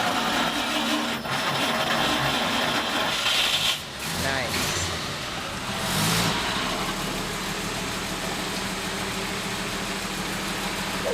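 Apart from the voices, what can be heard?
car starter cranking and engine starting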